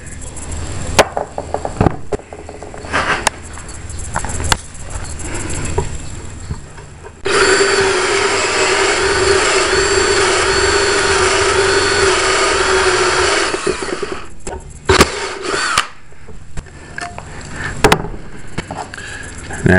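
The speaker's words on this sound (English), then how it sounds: "Now we're going to drill a hole for the elbow" A power drill whirs steadily for several seconds, loud and close, drilling a hole in the bottom of a power stabilizer unit, between stretches of clattering handling noise and brief tool knocks.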